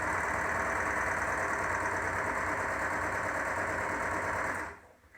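An overlocker set to overlock runs steadily at a fast, even whir while stitching a narrow hem along a face mask, close and continuous for several seconds before slowing to a stop near the end.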